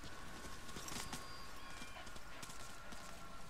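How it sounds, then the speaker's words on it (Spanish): Horse hooves galloping quickly in Metal Gear Solid V, a steady fast clip-clop rhythm running through the whole stretch amid noisy game ambience, with no talk over it. "El caballo va muy rápido, a cortas distancias echando hostias."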